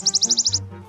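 A wood warbler's song played back from a recording as a lure, a fast run of about eight sharp, high chirps accelerating into a brief trill, clear and close, followed by a low hum.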